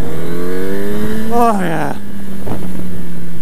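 A motorcycle engine on a rider's bike revs up and then settles to a steady drone while riding, with loud wind buffeting throughout and someone speaking briefly over it.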